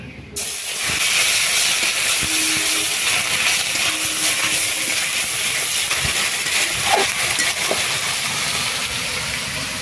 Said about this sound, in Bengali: তেল গরম হয়ে গেছে, দিয়ে দিচ্ছি বাটা মশলা।